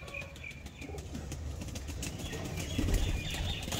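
Pigeons being released flap their wings in a steady rustle that rises toward the end, with faint bird sounds in an outdoor loft setting.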